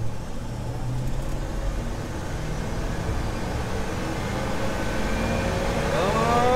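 A 1971 Ford F100 pickup accelerates hard from a standstill, its engine rumbling in a steady, fairly faint drone that rises in pitch toward the end.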